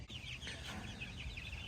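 Meat chickens cluck softly outdoors on grass in a steady stream of overlapping calls, a small flock heard close over constant low background noise.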